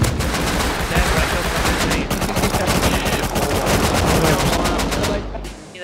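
Rapid automatic gunfire from the video game Rust, dense bursts of shots nearly continuous for several seconds, loud and close, with faint voices underneath, before it cuts off near the end.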